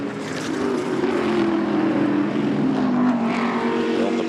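Bentley and BMW GT race cars roar through the Estoril circuit in Portugal, braking into a chicane, their engines a loud, steady droning blur that holds throughout without pause.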